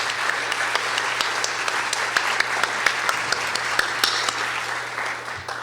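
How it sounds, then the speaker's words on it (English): A university lecture audience claps steadily together, a dense and even wash of applause from many hands that fades slightly at the end. "Let's give them a round of applause."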